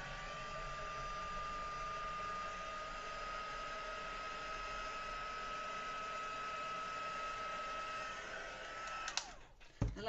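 A hair dryer blows steadily at close range over a watercolour pencil painting, a constant whirring hum with a high whine that runs for about nine seconds before cutting off with a few clicks and bumps.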